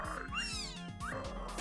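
A cat meows twice in quick succession, close and fairly loud, each call a rising then falling whine, over a faint low rhythmic background.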